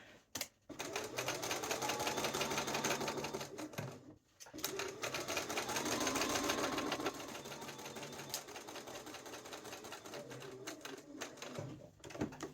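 A sewing machine stitches a patch pocket on a duster coat in close, rapid bursts, pausing briefly around the four-second mark and again near the end, with quieter handling noise between runs.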